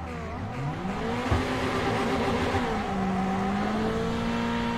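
A Ferrari 488 GT3 Cup race car engine in the iRacing sim at Suzuka, with a steady, loud engine note that climbs and shifts through revs for nearly five seconds, alone and without talk.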